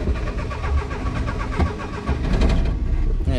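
A truck engine cranks and fails to catch, a close, rhythmic chugging of the starter that keeps turning over for a few seconds without settling into a run.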